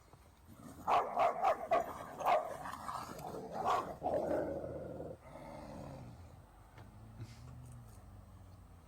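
A dog barks several times in quick succession with some growling, coming from a played-back video, followed by a quieter stretch of lower sound.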